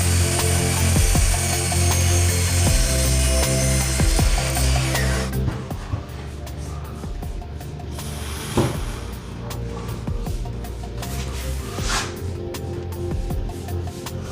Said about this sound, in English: I'm about to take this perfectly good header and cut a 50-degree angle on it on one corner